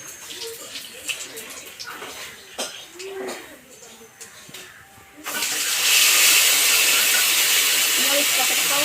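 Cumin seeds hit hot oil in a Bengali kitchen while cooking a cauliflower, potato and fish curry, setting off a sudden loud, steady sizzling hiss that follows a stretch of quieter kitchen sounds.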